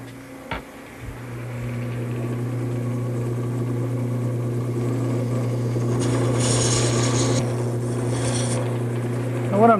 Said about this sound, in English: now I'm going to use a small gouge and create the beads